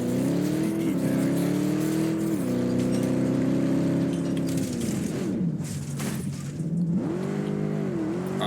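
A vehicle engine in the Helldivers 2 video game revs loudly and steadily while driving, its pitch rising and falling as it shifts and accelerates, with some clunks in the background.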